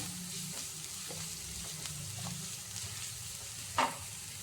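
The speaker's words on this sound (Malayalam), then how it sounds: "ഇതിലേക്ക് കുറച്ച് ചതച്ച മുളക് ഇട്ട് കൊടുക്കാം എന്നിട്ട് ഇതെല്ലാം കൂടി ഒന്ന് വഴറ്റി കൊടുക്കാം" Crushed chili sautéing in a pan for an oyster mushroom stir-fry, a faint, steady sizzle with a few soft stirring scrapes and one brief clink near the end.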